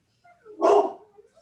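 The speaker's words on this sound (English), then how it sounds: "sorry about the dogs" A dog barks once, a short loud yelp close by in a room during a police reform meeting. Quiet surrounds it.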